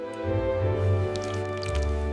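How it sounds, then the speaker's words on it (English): Thick slime glue squeezed and poured from a bottle for a monster slime experiment, a few soft squishy drips and wet gurgles over a low steady background hum. "Pour the glue."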